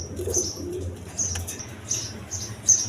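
High-flying Giribaz pigeons coo in low, repeated murmurs close by, joined by several brief bursts of flapping wings over a steady background hum.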